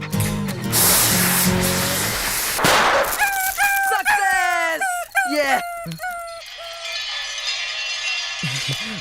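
A dog howls and whimpers in rising, wavering cries while firecrackers hiss and crackle loudly around it, starting with a sharp fizzing burst and ending in a steady crackling spray.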